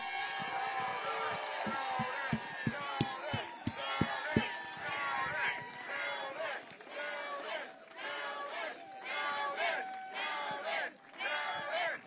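Rally crowd in Staten Island for gubernatorial candidate Lee Zeldin, a loud sustained roar of cheering and shouting voices with a few sharp claps or thumps early on, continuing throughout.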